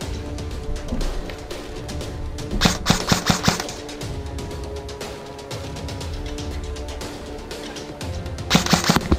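Airsoft guns fire during woodland attack-and-defend gameplay, with two bursts of rapid shots around the middle and end over steady outdoor background noise.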